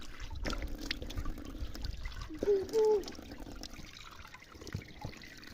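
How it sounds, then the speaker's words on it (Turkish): Water trickling from a public fountain while someone washes their face, a close, soft dribble with brief splashes, and a voice heard partway through. "Yüzümü de yıkayayım"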